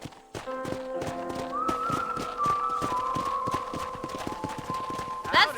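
Horse hooves clip-clop in a steady rhythm during riding in the Western video game Red Dead Redemption, with speech and music running over them.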